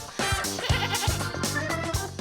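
An Alpine ibex, a wild mountain goat of the Alps' steep rocky cliffs, gives a loud, wavering bleat close by, a sustained nasal cry with pulsing breaks across about two seconds.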